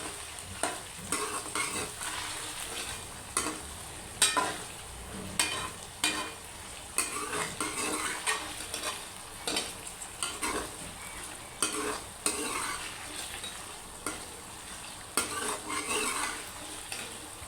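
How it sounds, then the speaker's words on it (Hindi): A spoon stirs chopped green chillies into okra frying over high heat in a pan, with rhythmic scraping strokes over a steady soft sizzle, close by. "अब आप इसमें मिर्च डाल दें, सब्ज़ मिर्च कटी हुई, और फिर चम्मच को हिलाकर मिक्स कर लें।"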